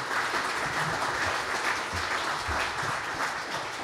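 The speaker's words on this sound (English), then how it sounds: "Let's have another round of applause for our panel." A crowd applauds a discussion panel at a public forum on transportation and democracy, with steady, dense clapping that stays loud and even throughout, and no voices are heard over it.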